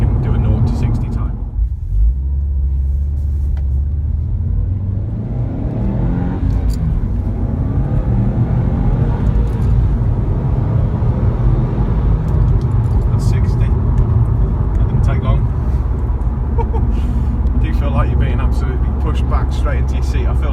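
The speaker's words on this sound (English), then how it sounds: "I can hear the exhaust note go up, I can see the revs climb on the dash" Engine and exhaust of a 2017 Subaru WRX STi under hard acceleration, a loud steady rumble heard from inside the cabin with people talking throughout.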